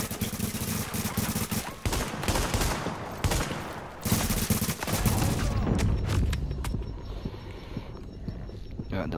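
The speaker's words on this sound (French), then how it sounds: "Une fortification alliée subit des tirs ennemis." Gunfire rattles against a fortification in the shooter game Tom Clancy's The Division, dense rapid bursts of shots close and loud, thinning out toward the end.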